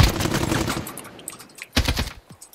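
Rapid automatic gunfire in the battle royale shooter Warzone: a dense close burst of shots, a brief lull, then another short sharp volley.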